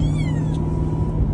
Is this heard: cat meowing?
yes